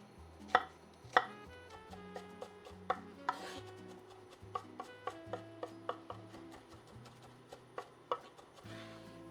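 A knife chopping an onion on a board, a steady run of crisp, close chops at an irregular pace, with a faint background hum from a nearby hot plate.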